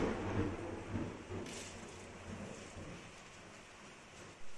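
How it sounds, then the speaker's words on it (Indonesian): Heavy rain pours outside during home coffee roasting, a dense, continuous rumbling wash that is loudest at the start and eases slightly, with a short knock right at the end. "Dan di luar lagi hujan gede banget"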